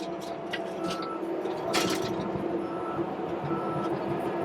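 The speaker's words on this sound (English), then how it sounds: "check this out, it just goes right through these trees" A bulldozer pushes its blade through thick trees and brush while clearing ranch land, with a steady, loud engine roar and scattered crunching and cracking of wood throughout.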